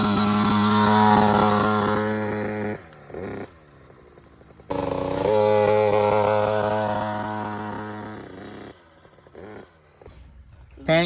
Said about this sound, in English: we will witness his first gate drops on the new bike